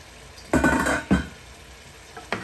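Ground meat for a pasta sauce cooks in a pan, with two loud bursts of sizzling and stirring scrapes close by, a quieter hiss between them and a short clatter at the end.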